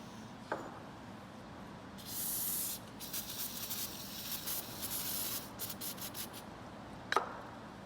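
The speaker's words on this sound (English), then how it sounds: "We'll clean this up with some brake clean and a rag" Brake cleaner sprays onto a hardened steel ball bearing in short hissing bursts broken by rag rubbing, with a click near the start and another near the end.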